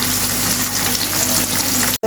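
Food fries in a pan with a dense, even crackling sizzle that holds steady and close, then cuts off abruptly near the end.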